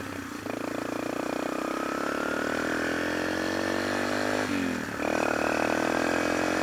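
A motorcycle engine runs steadily at idle close by, a continuous rumble with a brief dip and rise in pitch near the end as the throttle shifts.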